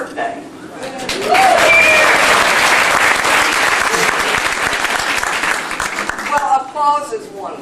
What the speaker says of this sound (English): Well, applause is wonderful.